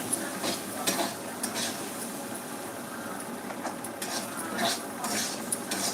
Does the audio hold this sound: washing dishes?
yes